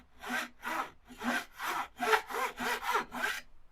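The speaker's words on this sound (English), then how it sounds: "the nut slot is cut to depth" A small saw cuts a guitar nut slot to depth during fret work, producing about eight short, rasping back-and-forth strokes, close and clear with no talking.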